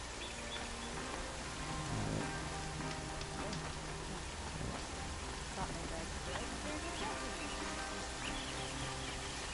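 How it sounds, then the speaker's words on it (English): Steady rainfall in the Horizon Zero Dawn game world, a constant soft hiss of drops on surfaces, fairly faint and unbroken throughout. "Yeah, it's raining."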